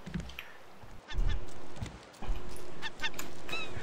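A bird in the survival game Raft honking like a goose, with several loud, close honks in quick bursts and a wavering call near the end, with no talking.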